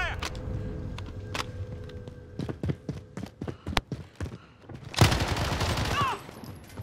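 Call of Duty gunfire from a FiNN LMG, sharp separate shots crackling at varying distances that build into a loud, sustained burst of automatic fire near the end.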